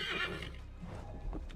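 A horse neighs in a video game, one faint, short whinny with a light hoof clatter at its end.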